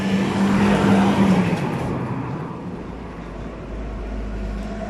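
Cars passing on a roadside beside a shop front, a loud close whoosh of a vehicle going by followed by a steady rumble of traffic fading into the distance, with no talk.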